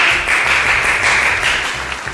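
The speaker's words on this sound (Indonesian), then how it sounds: "Boleh tepuk tangan semuanya." Guests at a sweet seventeen party clap together on cue, a loud, continuous wash of applause from a close crowd, with a low hum underneath.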